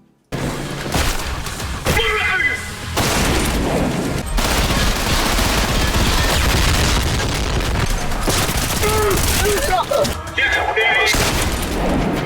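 Heavy automatic gunfire and explosive blasts from weapons in the first-person shooter Trepang 2, loud and continuous, with sharp crackling shots, booms and shattering impacts stacked densely across the whole stretch.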